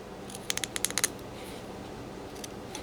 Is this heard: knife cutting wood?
yes